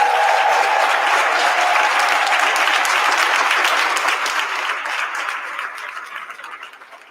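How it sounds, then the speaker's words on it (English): Audience applause at a Kentucky advocacy rally for a safer state: a dense wash of clapping hands, loud at first and holding steady, then thinning and fading away over the last few seconds. "That is worthy of applause."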